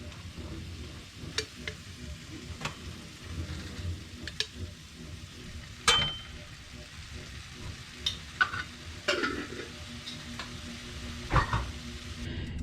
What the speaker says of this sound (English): Onions and peppers. Don't forget your metric crap ton of garlic.